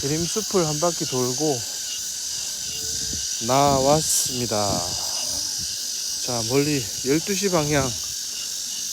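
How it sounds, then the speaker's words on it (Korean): Late-summer cicadas in the Gyerim forest in Gyeongju keep up a steady, high, shrill drone throughout, while someone speaks over it at intervals. "매미 소리 들리시죠?"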